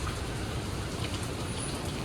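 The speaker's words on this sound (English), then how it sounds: "Yes, it's raining." Steady rain falls outdoors around a shopping center under roof repair, a dense, even patter of drops close by with no voices.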